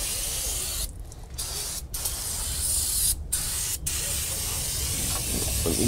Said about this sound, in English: you can wash all the residue off again with the brake parts cleaner